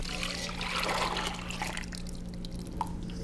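Cream of watercress soup is poured back into a saucepan, a thick liquid trickle and splash for a few seconds that tapers off into a few drips.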